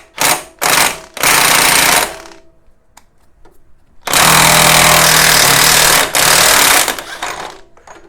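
A beefy impact wrench removing the reverse-threaded front pulley on a Harley Sportster, with a few short hammering bursts followed by a long, loud sustained rattle up close.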